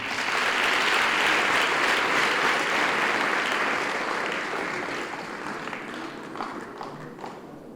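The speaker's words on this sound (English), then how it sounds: "Now you see, this is, you can clap." An audience at a guest introduction gives sustained applause, a dense roar of many hands clapping at once, loud at first and gradually thinning out over several seconds.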